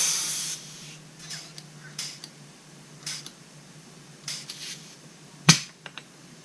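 Argon gas from a tank hisses in short bursts through a Schrader valve into a Fox shock absorber. There are several brief sprays with a sharper, louder burst near the end, all fairly quiet against near silence.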